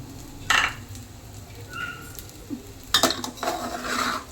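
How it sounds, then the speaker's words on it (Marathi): Spoon scraping and clinking against a pot while jeera rice with fresh coriander is stirred, a few brief metallic knocks and scrapes standing out over a quiet kitchen background. "परत एकदा व्यवस्थित मिक्स करून घेऊ."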